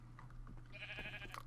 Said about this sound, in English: Yes, Sheen the Chocolate Sheep has saved the day.